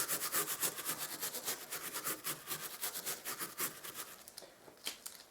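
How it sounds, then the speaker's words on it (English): Rhythmic rubbing of white spirit into gloss paint on carpet, a steady run of quick scrubbing strokes close by that slow and thin out near the end. "Give it another rub."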